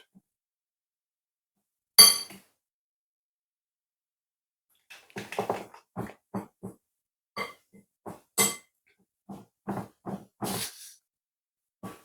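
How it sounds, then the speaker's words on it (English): A spoon works plantain tart dough in a bowl, making sparse clinks and soft scraping knocks in short irregular bursts against near silence, close and fairly quiet. "I just use the spoon to knead this up"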